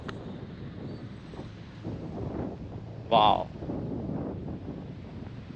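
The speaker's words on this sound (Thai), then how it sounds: "มีลมเลยเนาะ" Wind blows across the microphone in Benjakitti Park in central Bangkok, a steady low rumble throughout, while a person exclaims briefly and other voices are heard faintly.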